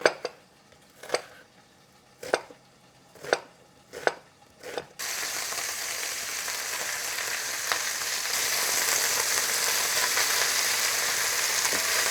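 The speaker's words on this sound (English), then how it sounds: "Then start sauteing the onion." A few knife chops give way to onion sauteing in a hot pan, a steady sizzle that starts abruptly and grows slightly louder as it hisses on.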